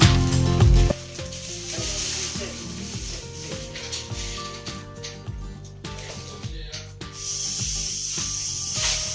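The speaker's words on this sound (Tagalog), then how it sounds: "Gumamit po tayo ng pang-spray na pamatay ng anay" A hissing spray of termite killer comes in bursts among crackling, sizzling noise, with brief pauses between sprays and quieter rustles, while treating a rotted wooden door jamb.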